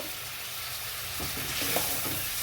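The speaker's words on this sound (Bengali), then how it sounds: "এবারে সামান্য পরিমাণ জল দিচ্ছি এই দেখুন আবারও নাড়াচাড়া করে নেব" Aloo potol curry with a little added water being stirred in a pan, giving a dense, steady sizzling hiss with soft scraping, close and continuous.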